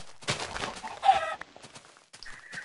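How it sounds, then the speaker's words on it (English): Chickens in a farming video game cluck in a few short, nearby bursts, with a brief rooster-like call and some faint game ambience between them, with no talking. "Oh, more chickens."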